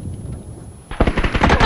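Gunfire erupts in a battle royale shooter game: after a quieter rumble, a loud, rapid burst of close shots rattles on in quick succession.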